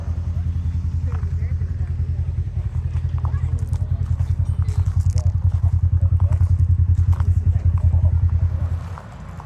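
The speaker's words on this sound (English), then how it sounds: "getting the engines warmed up, getting ready to head that way" Off-road vehicle engines idle while warming up with a steady rapid putter and low throb, swelling slightly before easing off; faint voices murmur underneath.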